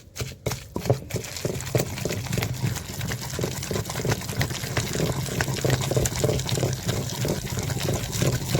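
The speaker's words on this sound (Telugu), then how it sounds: "కొద్దిగా వాటర్ వేసుకోవాలి." Water trickles and splashes steadily into a bowl of pounded Nalleru (veldt grape) chutney made with sesame, cumin and garlic, a close, continuous liquid pour with faint kitchen clatter at the start.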